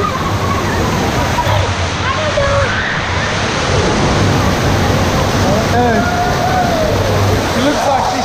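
Rushing water churns loudly in a water park river at Volcano Bay, a continuous splashing roar with sloshing surges, while voices shout and talk over it up close.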